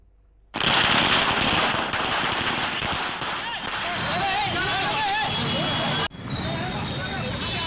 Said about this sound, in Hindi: यहां पटाखे फोड़े गए